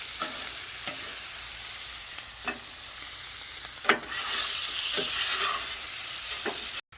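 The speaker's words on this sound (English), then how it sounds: "Got the tomatoes cooking up." Whole and stewed tomatoes cooking on a griddle, a steady loud sizzle with scattered spatula scrapes and taps, swelling into stronger frying after a few seconds before cutting off abruptly.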